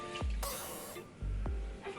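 Short hissing bursts of a makeup fixing spray bottle, a couple of quick pumps close up, each a crisp fine mist lasting under a second.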